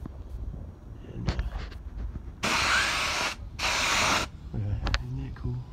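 Two loud bursts of Fluid Film sprayed from an air compressor sprayer, each hissing about a second, with mechanical clatter and handling noise before and after.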